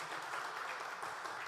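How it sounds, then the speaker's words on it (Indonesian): A church congregation applauds during a worship service, a faint, dense, continuous patter of many hands clapping heard from a distance. "Beri tepuk tangan lagi buat Tuhan kita"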